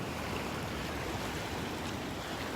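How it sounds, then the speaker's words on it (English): Wind-driven waves wash in at a Delnor-Wiggins beach as the tide rises and pushes water into the river mouth, a steady dense roar of surf and gusts with no talk. "The water is getting pushed into the river here as the tide's coming in. The wind's kind of pushing it in."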